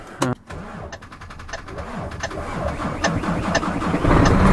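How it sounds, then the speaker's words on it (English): A 2008 Renault Magnum 460 hp truck diesel engine cranks and catches on a cold morning, a sharp start transient followed by a rising, steady idle rumble building in loudness, with some movement noise nearby. "So let's give the Volvo engine a go."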